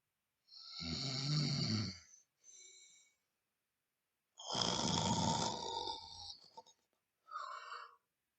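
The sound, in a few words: loud snoring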